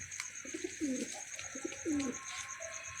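Pigeons cooing at a pigeon club loft, two clear rolling coos about a second apart, fairly close, over a steady background hum and faint hiss.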